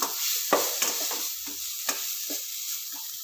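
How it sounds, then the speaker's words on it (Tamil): Food for a quick breakfast dish sizzles in a pan while being stirred, with intermittent scraping strokes and soft crackles standing out over a quieter frying hiss. "அப்பப்போ இந்த மாதிரி எடுத்து கிளறி விட்டுடுங்க."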